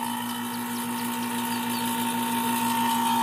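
A vacuum pump runs steadily while evacuating the AC system of an old Chevrolet Suburban after a condenser replacement, giving a continuous mechanical drone with a strong hum and no breaks.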